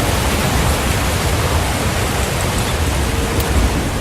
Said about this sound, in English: God, this waterfall is so loud.